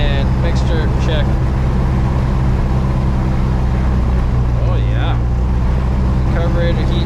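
A Cessna 172 piston engine runs steadily during pre-flight magneto checks, a loud constant drone with strong low harmonics filling the whole stretch, while a voice talks over it now and then.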